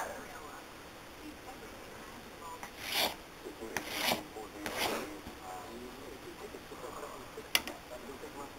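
Several rasping strokes of a plane shaving high spots off a wooden arrow shaft, each a short scraping pass, close and moderately loud, with quiet pauses between them.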